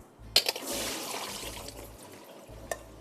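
Soaking water drains from a bowl of sliced zucchini, pouring and trickling for a few seconds with small splashes and a couple of sharp clinks from the bowl.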